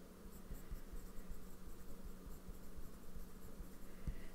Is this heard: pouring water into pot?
no